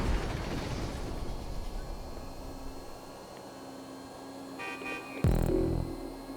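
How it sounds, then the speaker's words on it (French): Horn honking from a vehicle in a French-language racing video game, a short toot standing out near the end over steady game noise and engine drone. "Et klaxonne, donc à mon avis il a dû comprendre."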